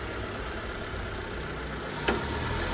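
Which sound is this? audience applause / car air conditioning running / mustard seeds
car air conditioning running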